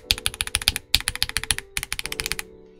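Rapid keystrokes on a RoyalAxe L75 mechanical keyboard with Gateron G-Pro Yellow switches, a muted, deep clacking in quick bursts with two short pauses, close up and with no voices.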